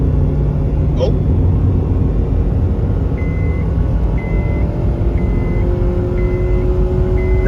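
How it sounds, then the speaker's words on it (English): Honda CR-V engine running steadily inside the cabin, a low dense rumble with a rising tone late on that suits a climb into VTEC, while repeated short electronic beeps sound in the background. "That was Vtec all day."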